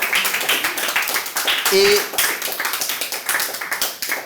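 An audience applauds after a magic show at a small Paris gallery, a steady patter of many hands clapping close by throughout, with someone talking over the applause.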